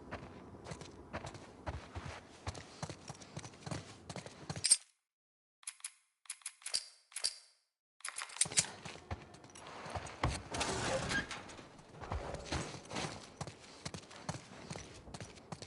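Horses' hooves clip-clopping in a video game, a steady run of close hoof steps that drops out briefly partway through before resuming alongside scattered softer game sounds.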